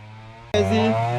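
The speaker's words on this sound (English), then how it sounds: "Here's the bush grinder. This is our old time grinder" An old bush grinder for repairing a Ford 1900 front differential gear switches on after a low hum, jumping abruptly to a loud, steady, close motor whine with strong tonal ringing.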